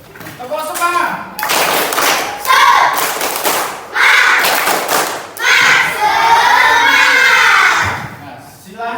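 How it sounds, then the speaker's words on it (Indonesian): Children in an Indonesian classroom perform a rhythmic spirit clap, with bursts of clapping and thumping alternating with shouted chanted words in a patterned sequence, loud and close. "kita tepuk semangat dulu yuk"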